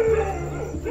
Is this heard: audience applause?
no